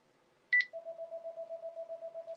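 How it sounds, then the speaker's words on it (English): A telephone gives two short high beeps and then a steady pulsing tone, faint and thin, with another beep at the end and no talking. "And there goes that darn phone again"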